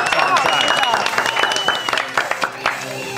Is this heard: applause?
yes